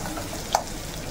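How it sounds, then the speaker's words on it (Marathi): Onion frying in oil in a pan until browned, a close steady sizzle with one brief stir or pop near the middle. "मस्त असं कांदा ब्राऊन कलर होईपर्यंत आपल्याला भाजून घ्यायचं आहे"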